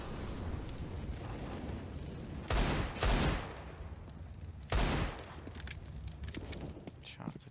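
Gunfire in a CS:GO pro match on the Inferno map, Na'Vi vs. North in the ESL Pro League: two sharp, loud bursts of shots stand out over quieter game ambience and background commentary.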